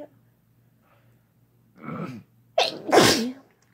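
A single person sneezes once: a sharp inhaled build-up followed by a loud, close, explosive burst, in an otherwise quiet room with no talk.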